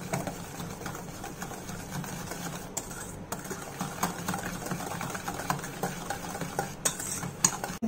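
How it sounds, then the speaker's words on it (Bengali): Icing sugar is whisked into cake batter in a bowl, making a continuous rapid whirring and clinking beat, moderately close, with no voices. "এই 1 কাপ আইসিং সুগার এখানে দিচ্ছি, দিয়ে ভালোভাবে এটাকে ফেটাতে হবে"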